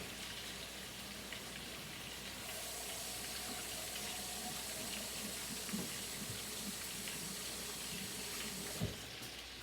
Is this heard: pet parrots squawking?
no